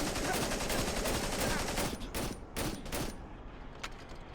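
Rapid gunfire in the horror video game Cry of Fear, heard as a loud, dense volley of sharp cracks over the first two seconds, then several spaced single shots with gaps between them.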